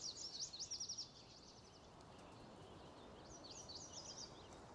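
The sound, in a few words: animated bird sounds in the video game Farming Simulator 19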